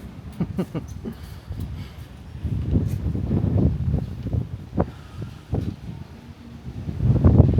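Gusty wind buffets the microphone in rumbling low bursts that swell and fade, with rustling and faint background sounds.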